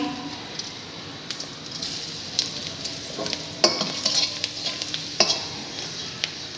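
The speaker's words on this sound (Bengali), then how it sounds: "এবার ফোড়ন দিচ্ছি। শুকনো লঙ্কা, দুটো শুকনো লঙ্কা দিলাম।" Two dried red chillies temper in hot oil for a Bengali cabbage ghanta, giving a steady close sizzle punctuated by sharp scrapes and clinks of a stirring spoon.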